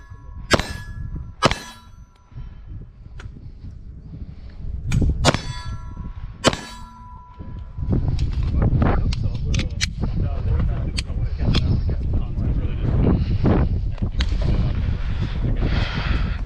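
Gunshots ring against a steel silhouette target at a Texas ranch shooting range, each a sharp metallic clang with a lingering ring, several spaced shots early on, then a steady noisy background with further faint clanks and some talking.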